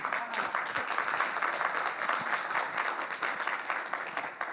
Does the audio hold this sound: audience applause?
yes